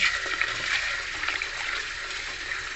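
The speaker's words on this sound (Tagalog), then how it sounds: "Hugasan ko muna tong ating munggos." Mung beans are rinsed under running water, a steady close-up splashing and hiss of flowing water that holds at an even level throughout.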